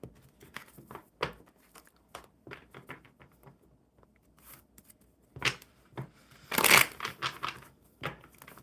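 Playing cards are handled and shuffled close up: scattered soft clicks and flicks, then a louder fluttering burst of cards snapping together near the end.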